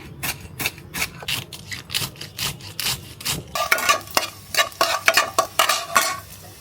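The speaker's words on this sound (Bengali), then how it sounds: "তেলের মধ্যে 5 ফোড়ন দিয়ে দিছি।" Panch phoron spices frying in hot oil with a crackling sizzle, a spoon or spatula scraping and stirring in repeated rhythmic strokes that grow busier and louder toward the end, close up.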